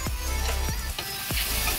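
Sliced carrot sautéing in a hot pan gives a steady sizzle, broken by a few sharp stirring scrapes close by, with no talking.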